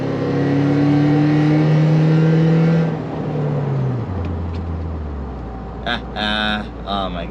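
A BMW Z3 sports car's engine revs and accelerates through a neighborhood, a loud steady drone that drops in pitch as the car shifts, with brief voices and other sounds near the end.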